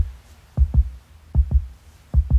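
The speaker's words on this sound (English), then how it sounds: "beating heartbeat" A Halloween prop plays a beating heartbeat: deep, loud paired thumps, lub-dub, repeating three times in a slow steady rhythm, close and alone with a faint hum between beats.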